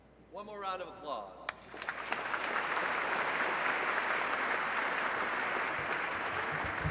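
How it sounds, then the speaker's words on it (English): Gala audience breaks into applause, a voice speaking briefly at the start before sustained, dense clapping fills the room at an even level to the end. "One more round of applause."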